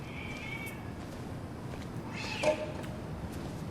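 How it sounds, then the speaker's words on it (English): A soft cat meow in the game Twin Mirror rises briefly out of a quiet, hissy background ambience, sounding like a game's sound effect. "Oh, I hear a kitty."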